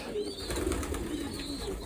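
Young racing pigeons coo softly in a loft, low repeated murmuring calls running steadily throughout, with faint higher chirps and ambient noise, no voices.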